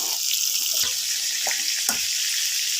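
Rohu fish fries in oil in a pan, a loud continuous hiss of sizzling with a few soft knocks, close by and without speech.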